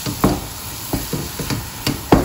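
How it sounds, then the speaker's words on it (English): Suji halwa cooked with butter is stirred in a pan, a series of short scraping knocks from the spoon roughly every half second, close and fairly loud over a faint background hiss. "So keep on stirring"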